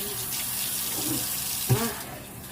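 A bathtub tap runs steadily as a dog is rinsed, a close, even rush of water that fills the whole stretch.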